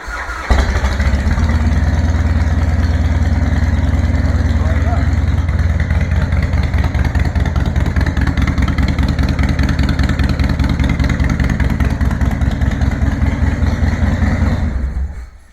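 A motorcycle kept parked in a garage starts up and settles into a loud, steady, rumbling idle with an even, rapid pulsing beat that holds for about fourteen seconds before shutting off.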